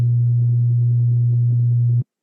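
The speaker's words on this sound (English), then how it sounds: "You'll hear a humming sound. This is called a theta frequency." A steady low humming tone at the theta frequency, a pure sine-like drone, loud and unbroken for about two seconds before cutting off abruptly.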